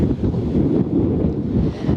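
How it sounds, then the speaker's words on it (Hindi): Strong sea winds blow across the microphone on a stormy day in Karachi, giving a steady, loud roar and buffeting rumble with no pauses and no voices. "न सिर्फ काली घटाओं का राज है बल्कि समंदरी हवाएं भी चल पड़ी हैं और तेज़ हवाएं चल रही हैं"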